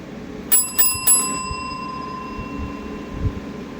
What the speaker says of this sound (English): Hiroshi called for the bell